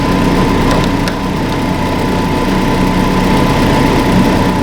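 A Hyundai Santa Fe engine idling in gear under full load, with high beams, blower and brake lights on, a steady loud low hum with a faint whine, continuous and close.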